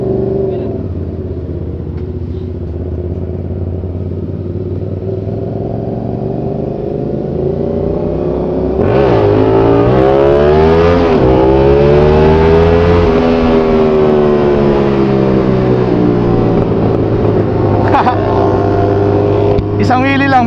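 Motorcycles rev and accelerate up the connector onto the NLEX expressway, the engine note climbing and falling through gear changes, loud and close with a continuous roar throughout.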